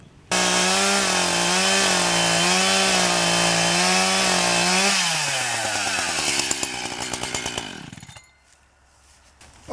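A chainsaw cuts through a wooden fence post for an H-brace, a loud, close, steady engine drone that strains and bogs as the chain bites through, then drops to idle once the post is cut to length.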